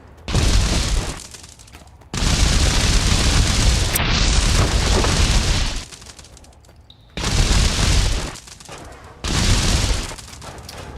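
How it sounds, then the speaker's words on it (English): Explosions in the pixel physics game Untitled Pixel Simulator: loud broadband blasts and rumbling bursts come in several long chunks separated by brief quieter gaps. "I'm immune to explosions, bro."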